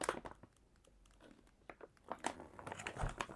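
Crinkling and crunching of a plastic vacuum-sealed bag holding a spool of 3D printer filament, a string of close, irregular rustling bursts that grow louder and busier toward the end, with no talking.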